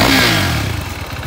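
A 2017 KTM 390 RC sport motorcycle with ABS and an aftermarket Akrapovič exhaust revs loudly up close, then the engine falls back toward a choppy, pulsing idle.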